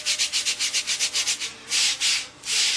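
Wooden ribs sanded with a sanding bar in a shop, a loud close rasping rub in quick regular back-and-forth strokes, then a few longer, slower passes, with no talking.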